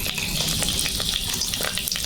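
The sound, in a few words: bay leaves sizzling in hot oil in a wok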